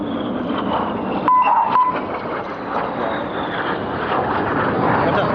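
Red Arrows jets of the RAF display team roar past on an opposition pass in the carousel manoeuvre, a sustained loud jet rumble with a brief electronic beep partway through and a voice speaking over the din.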